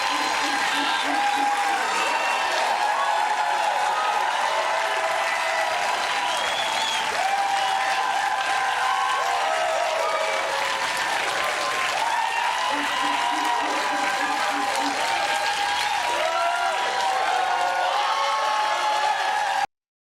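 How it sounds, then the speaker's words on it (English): A studio audience applauds steadily, a loud, dense wash of clapping that runs the whole time with occasional cheers rising out of it, while a voice talks over it. "you literally have somebody telling the crowd to clap"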